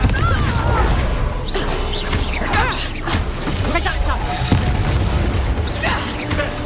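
Confringo fire spell exploding in Hogwarts Legacy, a dense burst of booming, crashing game effects over a continuous battle din with voices talking throughout.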